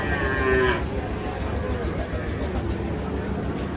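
Calves at a rural cattle market in Jhenaidah, Bangladesh: one loud nearby moo rises early over a constant outdoor crowd murmur and background noise.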